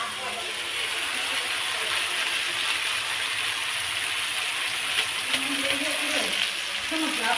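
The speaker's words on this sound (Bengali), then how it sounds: "দেখো দিলাম লঙ্কার গুঁড়োটা, সব মশলা দিয়ে কষাচ্ছি" Spice masala with chili powder frying in a pan, a steady broadband sizzle throughout with occasional stirring scrapes, close and moderately loud.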